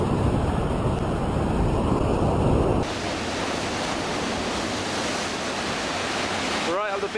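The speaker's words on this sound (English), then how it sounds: "We just had a huge wave." A huge stormy ocean wave crashes onto a beach below a cliff, making a loud, close, continuous roar of surf that shifts in character partway through and keeps churning to the end.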